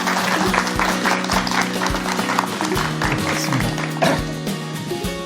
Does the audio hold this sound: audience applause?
yes